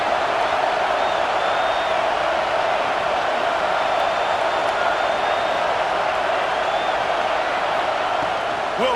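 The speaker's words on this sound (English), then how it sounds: "This crowd, full throat, splitting the eardrums and letting them know it's going to be a long day." Stadium crowd at a Big Ten championship game in EA Sports College Football 26, a loud, continuous roar with faint whoops rising over the constant wash.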